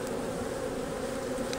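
Agitated honeybees buzz in a dense, steady drone throughout a hive inspection in western Oklahoma, loud and close with no voices.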